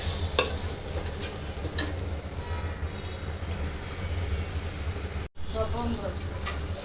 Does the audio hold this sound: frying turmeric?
yes